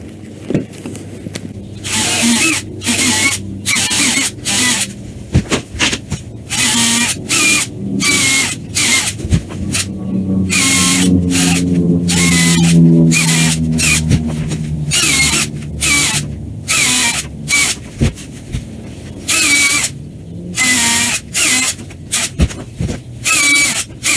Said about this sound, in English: I'll just keep going through here and drilling these